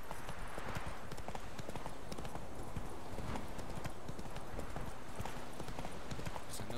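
Horse hooves clip-clop in a rapid, steady galloping rhythm inside the Witcher 3 video game, moderately loud and continuous with faint background ambience.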